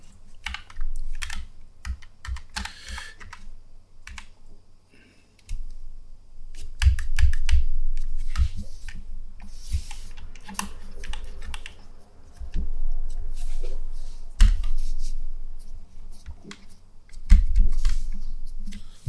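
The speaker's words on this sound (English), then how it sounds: "sorry, I'm just adjusting my keyboard a little." A computer keyboard on a desk being adjusted and tapped gives irregular close clicks, clacks and knocks in scattered bursts, with no talking.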